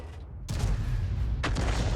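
A Lorraine 155 artillery gun fires in World of Tanks, a sudden loud boom at about half a second that rolls into a sustained low rumble, with a second sharp blast near one and a half seconds.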